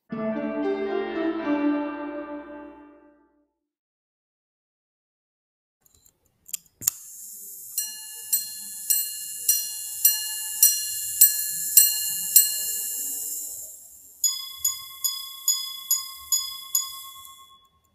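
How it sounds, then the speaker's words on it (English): A lever whirs, then a Patek Philippe pocket watch minute repeater chimes in clear high dings: a run of evenly spaced single tones, followed by six quicker paired chimes, close and delicate. "we will hear 6 secondary chimes representing 5, 10, 15, 20, 25 and 30."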